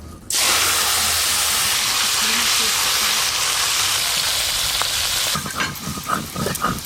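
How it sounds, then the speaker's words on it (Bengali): Fish frying in hot oil in a pan, a loud dense crackling sizzle starting abruptly and holding steady, then breaking into spattering pops and handling noises near the end. "এই মাছগুলো একবারেই সব ভেজে নেব"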